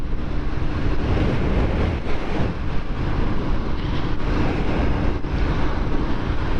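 Royal Enfield Interceptor 650 motorcycle riding along a dual carriageway, a steady loud roar of engine and wind rush filling the whole stretch with no let-up and no talking.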